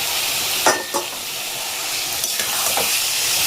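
Soybean chunks drop into a pan of frying spice masala for a soybean curry, giving a steady close sizzle broken by a few short stirring scrapes.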